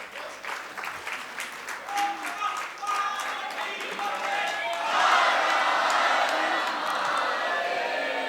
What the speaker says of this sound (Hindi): आपकी तालियां रुकनी नहीं चाहिए।